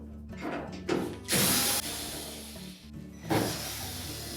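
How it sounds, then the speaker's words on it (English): A power screwdriver whirs in short bursts, pausing between screws, as screws are backed out of the support piece of a Samsung dryer during a repair, close and fairly quiet. "Now next we'll remove this support piece by taking out 2 screws on either side."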